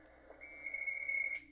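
A steady, thin electronic whistling tone from a ham radio Winlink email connection holds for about a second over faint static, ending with a short burst of hiss.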